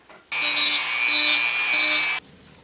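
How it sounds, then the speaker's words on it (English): A Dremel rotary tool smooths the rough edges of a small wooden coffin prop, a loud, steady high-pitched whine lasting about two seconds, close by, starting and stopping abruptly. "I use that Dremel tool to smooth this a little bit and get rid of all these pieces of wood that are sticking out"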